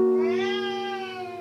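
A person imitates a cat's meow with one drawn-out, tonal mew whose pitch slowly falls over about a second and a half. It is close and clear, with nothing else around it.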